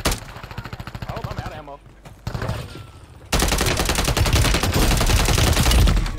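Dense video game gunfire, loud automatic bursts that build into a sustained heavy barrage after a brief lull, with players talking over the shooting.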